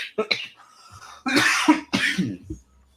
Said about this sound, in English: I'm so sorry about coughing close to the mic